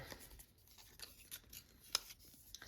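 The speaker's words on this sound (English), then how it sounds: "you grab some scissors and then you just really dig into those edges" Scissors scrape along paper edges to distress them for a craft envelope, a series of soft, faint rasping strokes with one sharper snip, heard alone up close.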